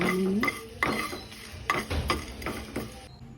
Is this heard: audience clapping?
no